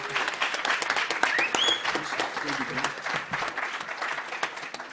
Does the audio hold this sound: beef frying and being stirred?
no